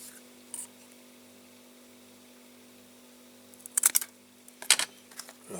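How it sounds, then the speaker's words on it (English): Cutting a replacement sticker to size for a restored Crescent Toys Fordson Dexta toy tractor and trailer: a couple of brief, crisp cutting sounds late on, with a quiet room and a steady low hum otherwise. "sticker's broken, so I'm just going to cut another one"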